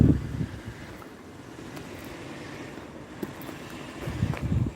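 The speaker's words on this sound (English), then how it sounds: "So when it's windy, it's just like gale force wind, and I have to like shelter the microphone" Strong gale-force wind buffets the microphone on an outdoor trail, loud rumbling gusts that swell at the start and again near the end, with no voices.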